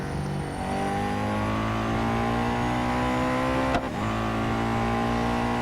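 A race car engine in Real Racing 3 drones steadily at high revs throughout, its pitch slowly climbing with one brief sharp blip near the end, loud and close with no talking.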